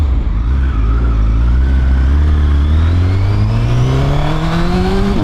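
A 2017 Honda CBR 1000 SP2 sport bike engine revs up loud and close, its pitch climbing steadily as it accelerates through the whole stretch with no talking.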